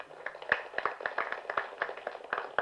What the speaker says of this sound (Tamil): உங்களோட பலத்த கரகோஷங்களும் உங்களோட என்கரேஜ்மெண்ட்டும் அவங்களுக்கு ரொம்ப முக்கியம்